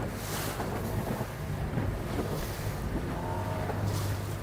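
The sailboat Skookum arrives under sail, its propeller jumping out of the water, heard as a steady roar of wind buffeting the microphone over sea and wave wash, with a faint low mechanical hum underneath and no speech.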